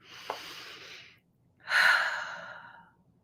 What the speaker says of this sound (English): Take another big, deep breath.